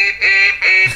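Two loud electronic duck quacks from a dog-training dummy launcher, each a harsh honking burst about a third of a second long, close up and slightly muffled by a hand over the speaker.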